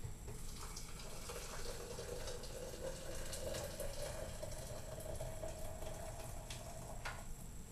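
Hot water pours into a French press in a steady, quiet stream, a soft continuous splashing rush that stays even throughout with no talking.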